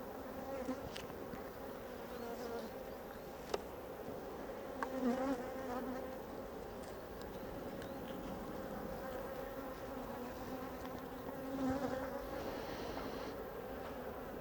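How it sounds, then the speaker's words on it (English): Honey bees swarm over a frame during a hive inspection, a faint, steady, dense buzz holding for the whole stretch with a few small handling knocks and no talk. "and bees all over it"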